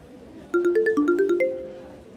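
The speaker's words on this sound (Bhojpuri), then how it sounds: "माँ का फोन है।" A mobile phone ringtone plays a short, bright melodic run of tones, several quick notes stepping up and down before a longer held tone, clear and close with no talking over it.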